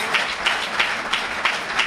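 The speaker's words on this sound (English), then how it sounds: "Let's give Sister Akbar Muhammad a well-deserved round of applause." An audience applauds Sister Akbar Muhammad at a gathering in front of a mosque, giving a steady patter of many hands with a few louder claps, alone and without talk.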